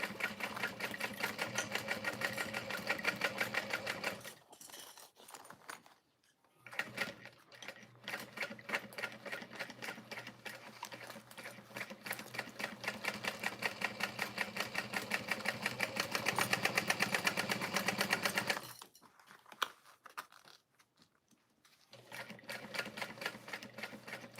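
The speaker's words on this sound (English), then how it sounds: "I don't have to get my fingers too close to the sewing machine." Sewing machine stitching in steady bursts, running fast for several seconds, pausing briefly, then resuming; close and fairly loud with a rapid mechanical rattle.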